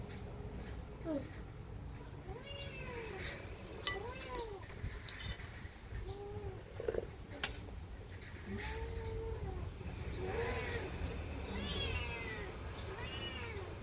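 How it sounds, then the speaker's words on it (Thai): A cat meows indoors again and again, its cries rising and falling over a steady low background hum, with a few sharper yowls toward the end. "แมวอยู่ตลอดเหรอนั่น"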